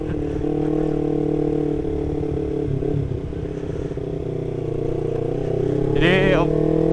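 A Kawasaki Ninja 250FI motorcycle engine drones steadily and loudly up close, the tone shifting slightly as it pulls, then a rising rev sweep near the end.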